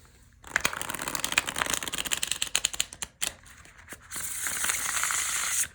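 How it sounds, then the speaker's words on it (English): A tarot card deck riffled up close: a rapid crackling flutter of cards, a brief pause, then a steady sliding shuffle that stops abruptly. "Shuffle it one more time for you."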